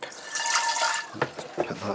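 Water runs into a sink during home brewing, a short splashy hiss of tap flow followed by a few irregular sloshes and drips, close and moderately quiet.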